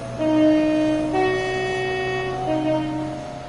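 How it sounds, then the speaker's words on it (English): A loud train horn from the Train Sim World 5 train simulator game, on the West Coast Main Line South, sounds in long sustained tones, one blast followed by a second shifting pitch, with a steady engine hum underneath and no talking. "Let's have a listen to the horn."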